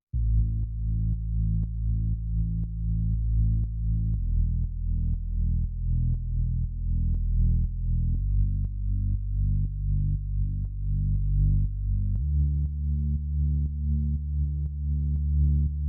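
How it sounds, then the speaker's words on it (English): A deep, sustained synth bass drones loudly, shifting pitch every few seconds in held notes, with faint rhythmic ticks pulsing underneath. "Then we have another bass which is like a sustained bass,"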